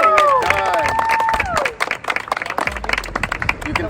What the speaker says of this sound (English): A big round of applause for Joel and Jessica.